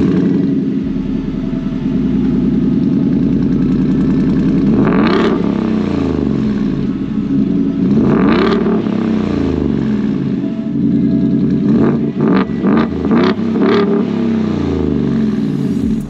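A 2021 Ford F-150's 5.0 V8 with aftermarket exhaust idles with a deep, throaty rumble, revved hard twice, then blipped in several quick bursts near the end.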